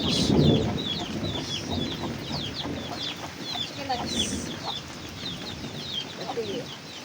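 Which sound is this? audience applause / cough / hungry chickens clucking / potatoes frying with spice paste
hungry chickens clucking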